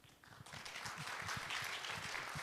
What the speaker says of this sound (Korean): 패널님들께 다시 한번 감사 박수 부탁드리겠습니다.